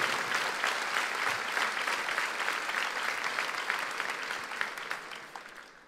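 A church congregation applauds during a sermon, a steady, moderately faint roll of many hands clapping that gradually softens toward the close.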